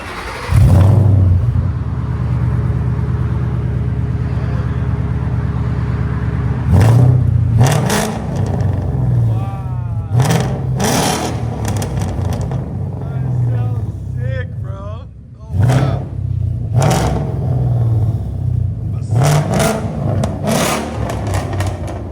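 A 2012 Ford Mustang GT V8 with headers and Bassani exhaust idles with a deep rumble, then revs sharply several times in bursts, with people talking over it.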